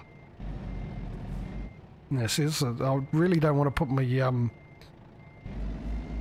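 In American Truck Simulator, a truck's reversing alarm beeps in a steady repeating pattern with engine rumble underneath. Someone talks loudly over the beeping partway through.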